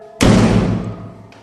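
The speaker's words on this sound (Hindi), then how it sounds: "मेरा दरवाजा दोबारा एक जोरदार आवाज के साथ हिला" A single heavy thud against a door, loud and close, with a booming low body that rings out and fades over about a second.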